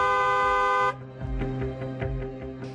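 A car horn gives one steady, sustained blast of about a second, then cuts off into a rhythmic, pulsing background.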